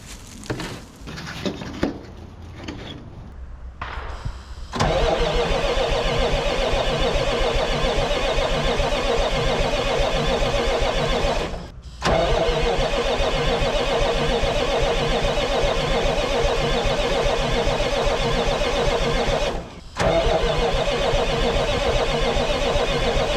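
An old Marmon cabover semi truck with a big cam Cummins engine cranks briefly, catches and runs, settling into a loud steady diesel rumble with two short dips in the middle.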